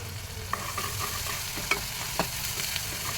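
Ginger garlic paste frying with onions and green chillies in a pan for a prawn curry hisses in a steady low sizzle, with a few light stirring clinks and no talking.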